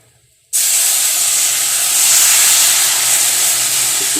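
Water is poured into a hot pan of dry-roasted semolina for upma. After a brief quiet moment, a loud, sudden burst of steam hisses and holds steady and intense for several seconds.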